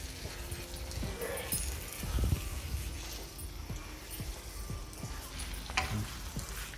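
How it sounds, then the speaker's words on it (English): Paneer cubes sizzle softly in a pan of thick chilli paneer gravy as a spoon stirs them, with scattered scraping clinks and gentle bubbling at moderate, close volume and no speech. "We'll add our paneer cubes to it slowly and mix it."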